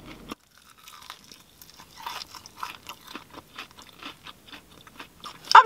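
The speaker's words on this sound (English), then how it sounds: "This chicken wing is very like crumbly, so it's very crunchy." Crunchy, crumbly fried chicken wing from a London chicken shop being bitten and chewed up close, a run of irregular crisp crunches with a louder bite at the end.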